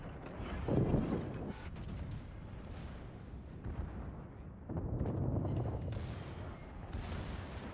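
Warship secondary battery guns firing in the World of Warships naval combat game, a series of booming blasts and rumbling volleys in irregular bursts, loud and close with no talk.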